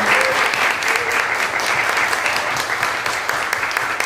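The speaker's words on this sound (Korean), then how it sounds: "여러분들 두 작가 위해서 박수 한번 더 드리는 거 어떨까요?" Dense, even applause from an audience at a comics festival meeting with two visiting authors, a continuous wash of clapping at steady loudness with no talk over it.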